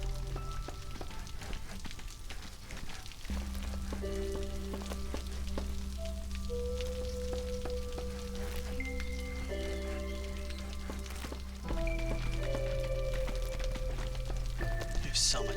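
Steady storm rain from the video game Against the Storm, a continuous hiss of rainfall layered over droning game music tones, holding at an even level throughout with a slight swell near the end.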